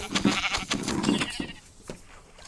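Several sheep-like bleats, wavering and nasal, repeat over a couple of seconds amid a busy, slightly noisy video game soundscape.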